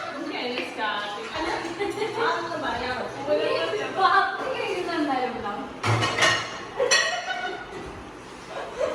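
Dishes and pots clinking and clattering during washing up in a hostel kitchen, with intermittent metallic knocks under steady conversation between several people.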